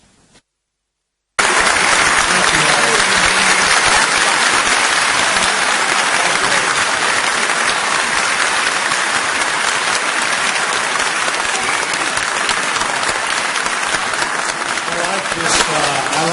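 An enthusiastic crowd at a US Senate conference on the Iran nuclear crisis applauds a speaker: after a brief silence comes dense, loud, continuous clapping that holds steady for about fifteen seconds.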